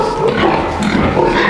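Piglets on a farm after farrowing grunt and squeal in a steady, close cluster of snuffling and oinking, filling the short stretch without pause.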